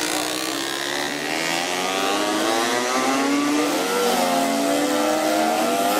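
Enduro motorcycles race at a Brandenburg motorsport meeting in 2013, engines whining and rising in pitch as they pass, a steady loud drone with shifting tones throughout.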